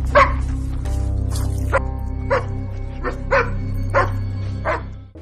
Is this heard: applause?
no